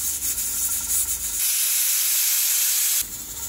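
A pressure cooker cooking Kerala-style mutton curry lets off its whistle, a loud, steady rush of venting steam that holds for about a second and a half before cutting back to a softer hiss.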